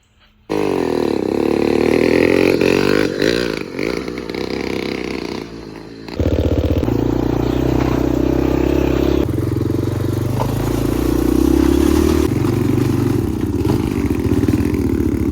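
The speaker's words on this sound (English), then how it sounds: "I say let's go do a burnout and hit NOS or something." A motorized bicycle kit engine fitted with nitrous revs hard and close, a loud, buzzy two-stroke drone that dips briefly at about six seconds and then roars back up, sustained throughout.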